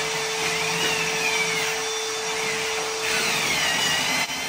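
Continuous loud whine of a power tool grinding metal on a mouse trap build, steady and close with a faint tonal hum throughout and no talk.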